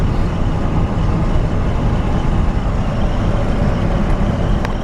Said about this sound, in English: Transmission shifts nice and smooth.